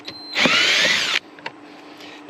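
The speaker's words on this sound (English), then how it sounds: "I'm going to use my drill with the 10mm on the end of it." A power drill fitted with a 10mm socket runs in a loud, close burst for about a second as it backs out a bolt on a Toyota Highlander, then stops, leaving faint clicks.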